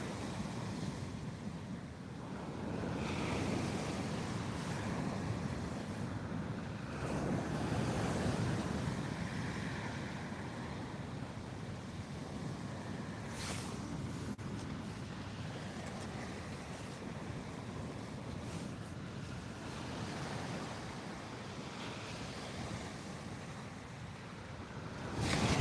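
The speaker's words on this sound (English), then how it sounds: "Definitely getting a good noise of the sea tonight" Sea waves and wind at night on the coast during a fishing trip, a continuous broad rushing wash of surf with gusty wind, slow swells rising and falling, moderately distant and fairly quiet, with no talking.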